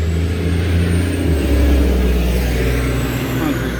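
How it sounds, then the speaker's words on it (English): A heavy concrete mixer truck rolls past nearby, its loud diesel rumble swelling and holding steady in a continuous low roar outdoors by a garden. "Concrete truck."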